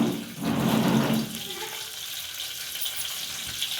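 Curry leaves, green chilli, cumin and mustard seeds hitting hot oil in a village-style home kitchen, a loud watery crackling burst that fades into a softer steady sizzle.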